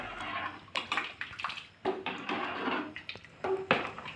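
Potato curry for puri bhaji boiling in a pot, with irregular bubbling and splashing water sounds coming in bursts, close by, with no talking.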